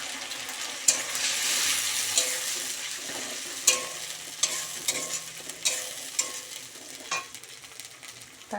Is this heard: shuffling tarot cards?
no